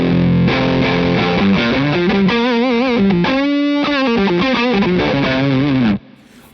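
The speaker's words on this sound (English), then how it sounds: "that's a lot of gain, and you can hear it's really like, it's easy to play and it's nice and saturated" Electric guitar played through a Wampler Paisley Deluxe overdrive pedal set to high, saturated gain, with a sustained distorted riff and bends that ring loud and dense before stopping abruptly.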